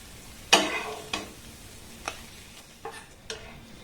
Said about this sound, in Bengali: সমস্ত পিঠেগুলোকে আমি খুব সুন্দর করে ভেজে নেব একদম কম তেলে বানানো